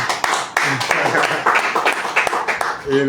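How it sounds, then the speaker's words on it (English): Scattered clapping breaks out over a voice still talking, irregular hand claps from a nearby small group at a book circle gathering. "Please, a round of applause for it"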